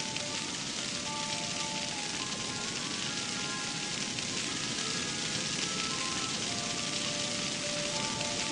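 Steady, dense hiss of rain falling in the video game Mimpi, continuous and even throughout, with faint tonal game music notes drifting above it.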